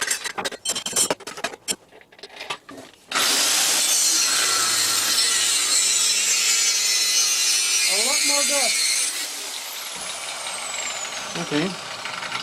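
An angle grinder fitted with a Graff Black disc cuts aluminium with a loud, steady, harsh roar that follows a few short bursts and later drops to a lower running whine, while someone speaks briefly over it.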